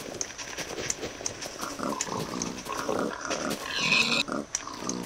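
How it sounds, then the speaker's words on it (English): Pigs from a spawner in a Minecraft level, grunting and oinking in a quick run of short, close calls over a few seconds, with no talk. "So there's a pig spawner here, spawning the pigs."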